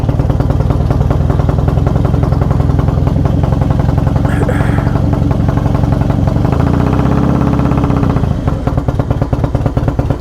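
A motorcycle fitted with new Feuling 525 cams, hydraulic cam chain tensioners and a Dynatek TC88 ignition runs just after a start without the choke, a loud, close, steady, lumpy idle with mechanical clatter throughout.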